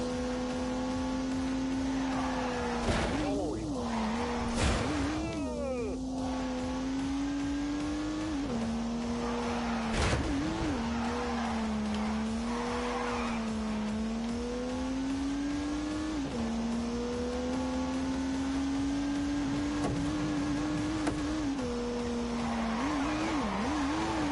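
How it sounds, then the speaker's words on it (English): A turbocharged 3-litre straight-six engine in the Gran Turismo racing game holds a steady loud drone, climbing and dipping in pitch through several gear changes and revs, with brief tire squeals, heard alone throughout. "an unleashed 365 rampaging horsepower from the turbocharged 3-litre straight 6"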